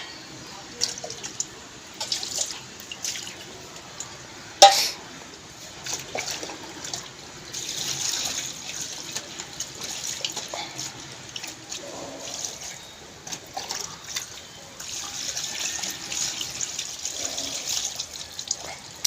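Fish being rinsed under running tap water in a home kitchen sink, with splashing, trickling and intermittent drips over about nineteen seconds, a sharp clatter near the start and faint background voices.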